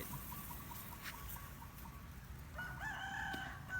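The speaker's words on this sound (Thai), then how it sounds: "มีไก่ด้วย" A rooster crows faintly in the distance over a steady background hum, its call rising near the end.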